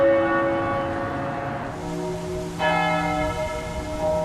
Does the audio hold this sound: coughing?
no